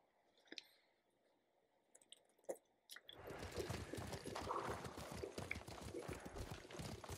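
A horse's hooves in the video game Ghost of Tsushima, a few scattered clicks at first, then a steady, close clip-clop at a trot over loose ground with faint ambient rustle.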